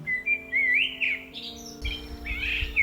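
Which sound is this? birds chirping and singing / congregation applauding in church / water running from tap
birds chirping and singing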